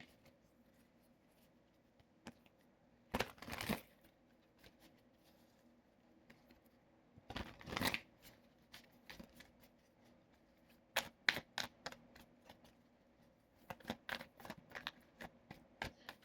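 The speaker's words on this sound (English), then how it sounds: "I'm going to use the tarot cards for the rest of it." Tarot cards being shuffled, several short bursts of riffling and flicking cards at close range, separated by quiet pauses, with no talking over them.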